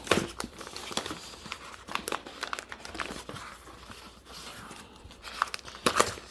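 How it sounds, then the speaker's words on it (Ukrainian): A coin package from the Perth Mint, sealed with paper tape, is torn and unwrapped with close, irregular crinkling, crackling and ripping bursts of paper. "Паперовий такий скотч."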